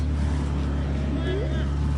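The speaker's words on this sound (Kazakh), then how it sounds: "Біз моторлы қайықпен кетіп бара жатырмыз." A motorboat engine drones low and steady throughout while travelling on flood water, a continuous close hum with a faint voice briefly rising over it.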